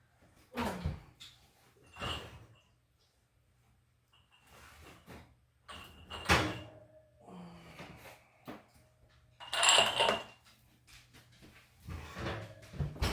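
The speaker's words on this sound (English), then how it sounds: "I am going to pull my jars out of the oven" Hot glass jars are pulled from a kitchen oven with a few separate clunks and clinks, a rattle of the oven rack and door, and quiet pauses in between.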